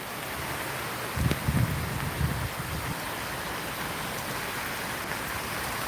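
Steady rain hisses evenly throughout, with a few brief low thumps early on; no voices are heard.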